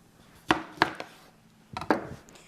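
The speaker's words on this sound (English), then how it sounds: "we're gonna cut our limes" Limes being sliced with a knife on a cutting board, four sharp chopping knocks in two close pairs, near and distinct with no talk.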